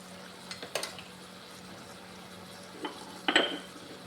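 Turmeric and salt mixed into egg fried rice in a pan, with a few short spoon-on-pan scrapes and clinks separated by quiet stretches and a faint background hum.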